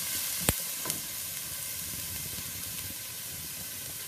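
Beef sautéing without added oil in a pan for a beef and pea stew, a steady hissing sizzle with a sharp clack of the utensil early on, then even frying alone.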